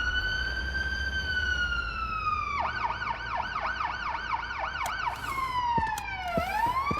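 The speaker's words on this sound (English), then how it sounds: "that siren and blaring it and continuously" An ambulance siren blares without a break, shifting from a long rising-and-falling wail into a rapid yelp and then a sweeping tone, loud and close with no voices.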